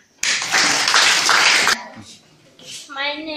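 Primary school pupils at Agweng Primary School in northern Uganda clap together for a classmate, a dense burst of loud hand claps lasting over a second, then fading into quiet murmuring and a voice.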